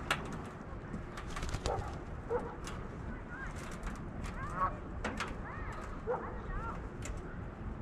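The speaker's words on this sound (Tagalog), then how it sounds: "Ito malaking ibon na to." A large bird calls repeatedly from a tree in an outdoor crabbing area before a snowstorm, its harsh, cooing cries rising now and then over steady background noise, with voices talking faintly underneath.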